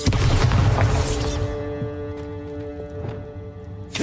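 A Bombarda blast spell in Hogwarts Legacy on Switch, a loud booming burst up front that fades into a low ringing hum, with a sharp crack near the end.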